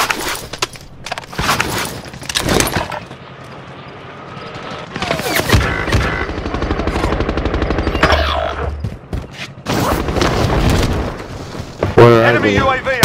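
Rapid automatic gunfire and bursts of shots in a Call of Duty Black Ops game, loud and dense, with voice callouts and explosive impacts mixed throughout.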